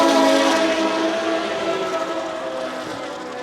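Formula racing cars at a Formula BOSS race restart at Bishopscourt roar loudly, with a steady droning blend of high-revving engines that slowly eases as they pull away.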